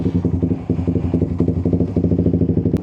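Suzuki GSX 150 motorcycle engine warming up at idle, a steady, loud, close pulsing putter with a quick regular beat and no talking.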